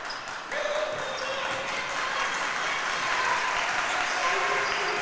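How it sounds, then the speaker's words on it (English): Student section clapping together at a high school basketball game between Ravenswood and Wahama, a dense steady crowd clatter filling the gym for the full length, with a play-by-play voice talking over it. "Student section clapping in unison as Kellen Lucas will shoot it over to Wolf."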